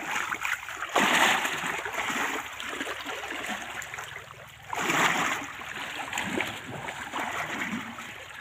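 Water poured and splashing as an elderly woman bathes on a cool day, two noticeable gushes of splashing over a constant trickling, wet background, close by and without speech.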